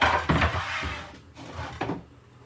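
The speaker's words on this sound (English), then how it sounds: "Just going to spin this chopping board round." A chopping board is spun round on a kitchen counter, producing a few close scraping and knocking rubs in two or three short bursts, then quiet.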